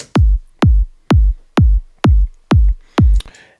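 Seven punchy Toolroom Academy kick drum sample hits in a steady, even rhythm, each a deep thump with a sharp click attack, close and dry, followed by a short tail.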